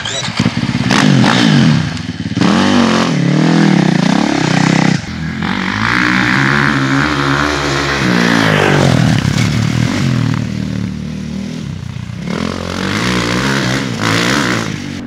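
A dirt bike engine revs hard and holds full throttle, loud and close with a rising and falling pitch, and a person speaks briefly over it.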